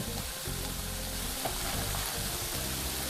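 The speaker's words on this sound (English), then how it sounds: "just giving my dal a stir there, ensuring it's not sticking to the bottom of the pan" Dal (lentils) stirred in a frying pan alongside peppers and paneer, a loud continuous sizzle with rhythmic scraping strokes of the spoon across the pan bottom, close up and without any talk.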